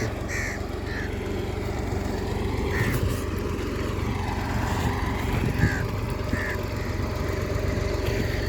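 A steady low tractor engine drones throughout in a village, with crows cawing intermittently above it in the distance.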